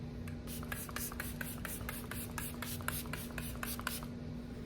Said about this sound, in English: I did say I was going to put this one on from SheGlam. So I'm going to go ahead and wear this one.